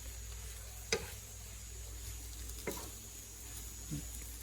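Aubergines simmer in a pan on low heat, with a soft steady sizzle throughout and a few sharp clacks of a utensil stirring against the pan.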